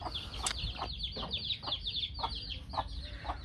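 A desi hen clucks in short repeated bursts close by, a quick irregular series of soft calls over a low outdoor background hum.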